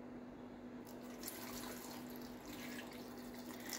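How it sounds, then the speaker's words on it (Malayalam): Water poured from a small container into a blender jar holding orange pieces and sugar, a faint steady splashing trickle after a quiet start, close and alone. "കുറച്ച് വെള്ളം ഒഴിച്ചു"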